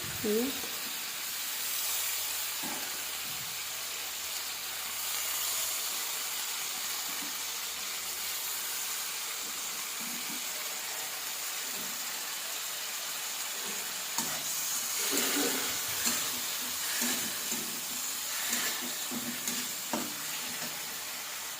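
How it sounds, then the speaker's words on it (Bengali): Spring onion greens hit fried spice masala in a pan and give off a steady, close, broadband sizzle with occasional stirring scrapes, and a voice speaks over it at times. "এই মশলাটা কষা হয়ে গেছে, এবার আমি পেঁয়াজের পাতাটা দিয়ে দিচ্ছি।"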